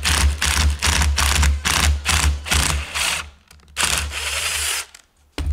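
A drill bores screw holes through wood for a joined wooden stool, loud close whirring in a run of short repeated bursts, then a longer push before the bit breaks through and stops.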